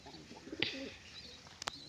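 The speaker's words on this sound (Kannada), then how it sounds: "ಇಲ್ಲಿನ ಪಿಜನ್ಸ್, ನನ್ನ ಪಿಜನ್ಸು" Domestic pigeons cooing in a rooftop loft, a single faint coo standing out briefly against quiet background noise, followed by a couple of sharp clicks.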